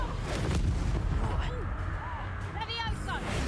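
Confringo fire spell blast from the video game Hogwarts Legacy, a loud booming burst amid dense combat effects and crackling, with game voices and chatter over the top.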